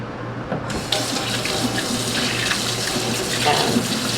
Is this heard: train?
no